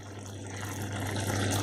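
Water gushes in a brief steady pour into a cooking pan of egg curry, rising slightly in pitch as it fills, with a low hum underneath.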